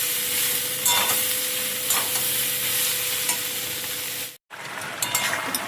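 A vegetable curry of beans, potato, kohlrabi and eggplant sizzles and fries steadily in a pan, with bursts of stirring, a brief drop to silence, then the frying resumes.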